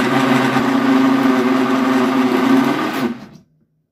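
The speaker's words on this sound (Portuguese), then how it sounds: "E agora a gente vai bater tudinho por 2 minutinhos." A kitchen blender whirs loudly and steadily while mixing a milk cake batter of flour and milk, then shuts off and winds down to silence.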